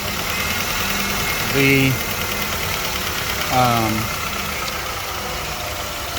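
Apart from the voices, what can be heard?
Honda Odyssey F23A engine idling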